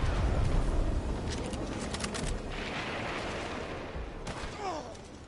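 Scattered gunshots in Red Dead Online, sharp cracks landing over a steady rumbling background, moderately loud with a few clustered shots.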